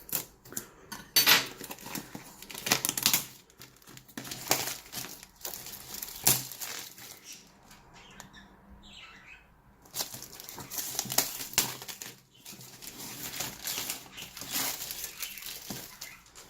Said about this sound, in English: Right now it is in foil. I will be cutting it with my scalpel.